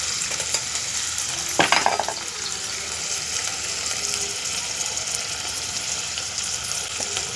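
Garlic and ginger paste hitting a pan and frying with a steady hiss, a brief louder clatter of stirring near the start, then continuous sizzling up close.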